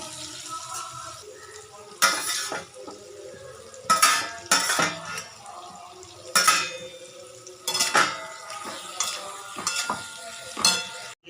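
Potatoes and soy chunks stirred in a cooking pan, with a metal spoon scraping and clanking against the pan in repeated bursts over a soft background sizzle.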